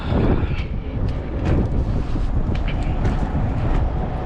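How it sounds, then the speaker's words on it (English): Steady, heavy wind buffeting the microphone, a loud rumbling roar with gusty swells throughout and no voices. "It's windy, no joke today."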